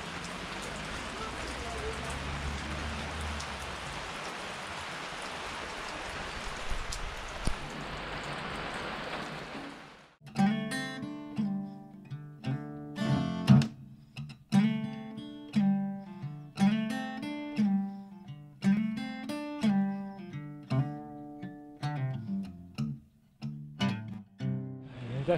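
Rain falls steadily as broadband hiss during a cycling trip in the Beskid Niski mountains, strong for the first ten seconds before music takes over and the rain sinks beneath it.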